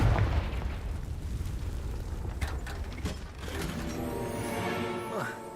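Spell explosions from Bombarda and Confringo in the wizarding game Hogwarts Legacy, a run of sharp bursts and crackling blasts with rumbling debris, close and loud, followed by a tonal magical shimmer.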